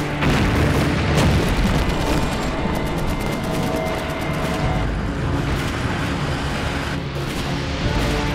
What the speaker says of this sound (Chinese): 不要留在路边引爆炸弹